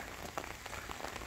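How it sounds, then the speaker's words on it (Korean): Spring rain falls steadily, a dense, even patter of drops on surfaces at moderate loudness with no voices. "또 주룩주룩 이제 봄비가 좀 내리고 그렇습니다"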